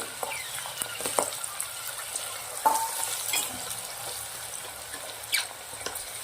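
Green peas and green garlic dropped into hot oil with tempered mustard seeds and cumin, frying with a steady close sizzle and crackle, with occasional spoon scrapes and stirring against the pan.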